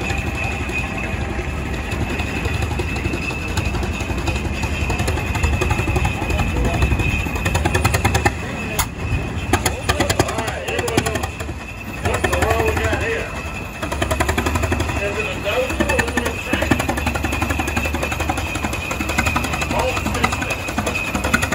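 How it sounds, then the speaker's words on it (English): A rare tractor engine runs at a power parade in Ederville, a loud, rapid, knocking chug that holds steady throughout, broken by a few sharp rattling bursts, with voices mixed in from the crowd. "Very rare tractor."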